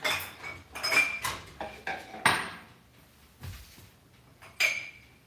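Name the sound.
dishes and cutlery being put away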